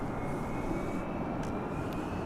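An American Airlines Airbus A321 jet at DFW International Airport, a fairly faint, steady engine rumble with a thin high whine, continuous and alone for a couple of seconds.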